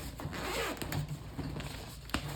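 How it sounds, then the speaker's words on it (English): The zipper of the soft bag holding a Bauer 20V compact impact driver is pulled open. A faint, close zipping with a few short creaky pulls, in a quiet room with no talk. "Here's the zipper."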